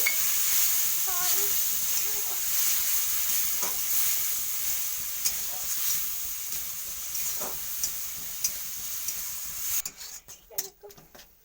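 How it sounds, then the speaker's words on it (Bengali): Ground tomato and a little water hit a hot pan and sizzle with a steady steamy hiss while being stirred, close and moderately loud, with a burst of sharper clatter near the end. "টমেটোটা এখানে বেটে রেখেছিল, সেটা দিয়ে দেবো। এটাকে ধুয়ে একটু জলটা দিয়ে দেবো অল্প।"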